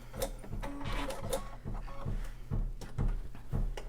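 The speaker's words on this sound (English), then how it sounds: "I'm going to back stitch that a few times, trim" A sewing machine back-stitches fabric for a headband and face mask, running as a steady, close whirring drone with regular mechanical clicks and ticks throughout.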